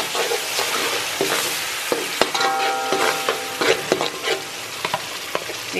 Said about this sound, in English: here you hear the sizzling.